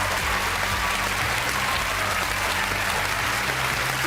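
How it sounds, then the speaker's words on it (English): Studio audience applause at a BBC game show, a dense, steady roar of clapping that holds loud and even for the whole stretch, with no break or voice standing out. "Give them a big round of applause."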